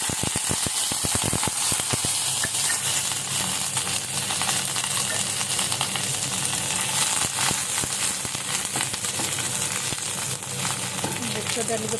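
Chili and spices tempering in hot mustard oil in a pan, a steady dense sizzle and crackle of frying lasting throughout, with occasional stirring clinks and faint voices in the background.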